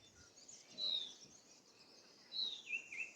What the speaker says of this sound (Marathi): इकडे शांतता असते फक्त पक्ष्यांचा आवाज असतो